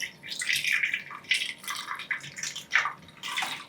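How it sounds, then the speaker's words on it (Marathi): Hot water is poured over freshly made homemade paneer to rinse it, giving irregular close splashing bursts that rise and fall, with no talking. "आता हे गरम पाणी असं घालून पनीर स्वच्छ धुवून घ्यायचं."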